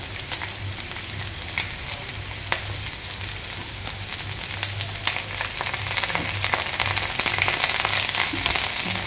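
Ginger paste and chopped green chillies sizzle steadily in hot oil, a dense continuous frying crackle with scattered sharp pops throughout.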